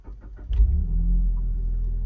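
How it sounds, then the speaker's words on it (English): A Mazda car with a Skyactiv automatic transmission starts up: a quick series of starter cranks, then the engine catches and settles into a steady low idle rumble. "then you start the car"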